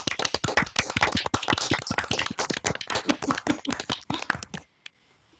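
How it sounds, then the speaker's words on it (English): A dense round of applause from a talk audience, many hands clapping steadily for about four and a half seconds before stopping abruptly, leaving near silence. "There's a round of applause"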